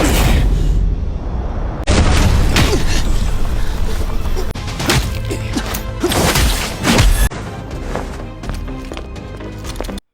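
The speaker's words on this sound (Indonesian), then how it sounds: "Namun bom yang telah disiapkan Ling meledak." A loud film explosion from a prepared bomb, with dense crashing, booming and debris impacts filling the whole stretch, heavy and continuous with several sharp hits.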